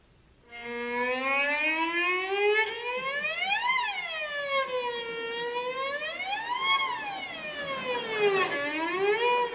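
A cello imitates a fire engine siren with long bowed glides that rise and fall in pitch, played close and clear. The wails repeat in slow, sweeping cycles for several seconds.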